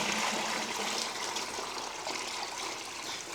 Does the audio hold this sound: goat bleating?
no